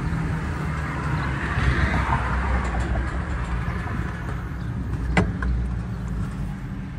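Epic E40FL forward-facing electric golf cart rolling on smooth tires, giving a steady, moderately loud hum of wheels and road with a faint motor whine, plus a brief clack partway through.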